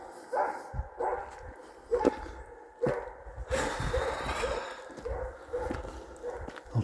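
Repeated distant barking from a dog somewhere in a mountain valley, several sharp barks spaced irregularly with reverberant echoes trailing off between them, carrying across open terrain.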